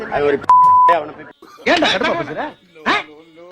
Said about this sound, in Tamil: அதுக்கு பீப் சவுண்ட் போட்டு தான் நாங்க ஒளிபரப்புறோம்